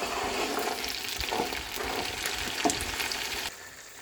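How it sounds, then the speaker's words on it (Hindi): Mutton pieces sizzle in a pan with ground garlic, a steady close crackling fry broken by occasional stirring scrapes, with no talking. "3 टेबलस्पून लहसुन जिसको मैंने पीस लिया था वो डालकर इसको 2-3 मिनट के लिए भूनेंगे।"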